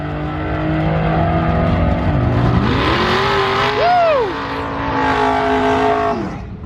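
A 2020 Coyote-powered car with a 10R80 transmission running on E85 launches hard down a drag strip, its engine note climbing through several rising shift sweeps, loud and close, with a brief voice at the start.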